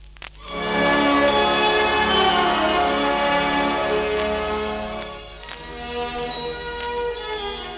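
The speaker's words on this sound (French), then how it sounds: "vous devez tourner la page lorsque vous entendrez sonner ce carillon" A single resonant page-turn chime rings out and decays slowly, followed by a softer second tone.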